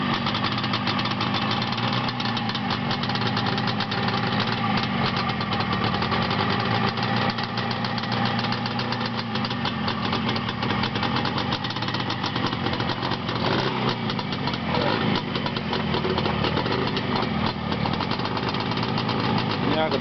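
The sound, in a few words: engine running on a motor test stand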